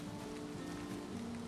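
Steady rain falls in Valheim, an even, soft hiss of drops on surfaces that runs the whole time, faint and unbroken, with no voices over it.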